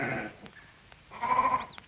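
Sheep in a passing flock bleat twice, a brief call first and then a longer, louder one a second later, with quiet countryside in between.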